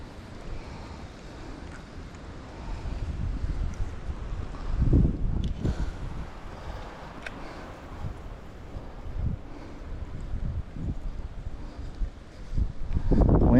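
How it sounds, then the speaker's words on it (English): Strong wind gusting at a lakeside while fishing, buffeting the microphone with uneven rushes and a few heavier blasts, building to a loud gust at the end. "Wind's a whipping over here, not in the trees."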